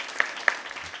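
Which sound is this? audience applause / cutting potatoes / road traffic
audience applause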